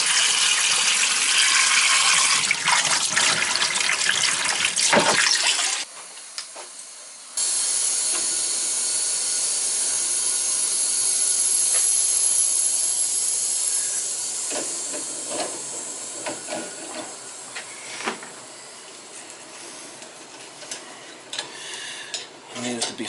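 Water flushing out of a gas-fired boiler heating system, a loud continuous rushing hiss that briefly cuts out, then resumes with scattered metallic clanks and knocks, no speech.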